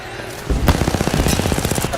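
Rapid automatic gunfire during an Apex Legends firefight at a championship match, a dense, loud burst of evenly spaced shots after a short quiet lead-in, continuing steadily to the end.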